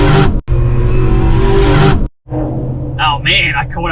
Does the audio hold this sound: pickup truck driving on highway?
yes